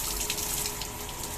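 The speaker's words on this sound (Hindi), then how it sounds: "नहा रहा है, टोटी चला के" Cold water runs steadily from a tap during a bath, a continuous soft hiss and splash heard alone at low volume.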